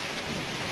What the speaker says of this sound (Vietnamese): Năm nào đại đường cũng mưa lớn vậy sao?